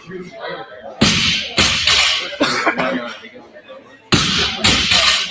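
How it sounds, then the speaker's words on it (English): Several sharp, harsh coughs burst out in a cluster, loud and close, with muffled voices and room noise in between, during a CrossFit Quarterfinals rowing event. "I hear a cough, man."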